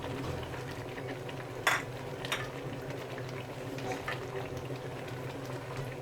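Raw mango chutney with white vinegar and red chili powder simmering in a pan, a steady bubbling sizzle broken by a sharp stirring clink and a few lighter scrapes.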